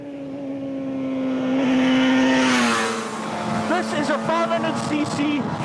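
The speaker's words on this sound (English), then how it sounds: "It's a 500cc 4-cylinder two-stroke." A Yamaha RZV500R 500cc four-cylinder two-stroke motorcycle engine revs up to a loud, sustained, buzzing whine, then falls back to a rough, crackling idle while people talk nearby.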